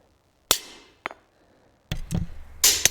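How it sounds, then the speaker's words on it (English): A chisel is struck with a hammer against a steel plate that has not been annealed and is still very hard, ringing in a few sharp, close metallic hits with brief decays and irregular gaps. "I'm pivoting kind of on the corner of the chisel, if you will, and advancing it ever so."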